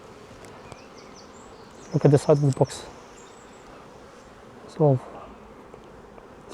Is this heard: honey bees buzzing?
yes